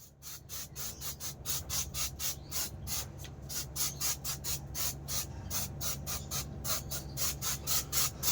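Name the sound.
spraying from a spray can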